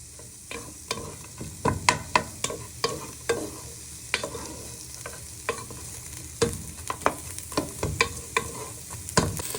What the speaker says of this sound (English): we're just frying our red onion and garlic for a few minutes